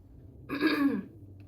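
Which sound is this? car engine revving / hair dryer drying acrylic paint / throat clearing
throat clearing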